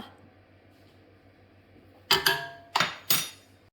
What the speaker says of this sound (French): je vais mettre donc les 3 cuillères à soupe de banania